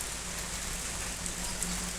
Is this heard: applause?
no